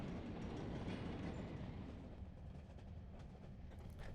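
Rumbling train ride in the video game Enderal, a steady low rolling drone with faint rhythmic clatter of carriage wheels running continuously throughout.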